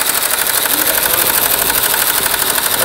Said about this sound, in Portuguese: Vou mostrar a máquina de bordar de uma cabeça sensei.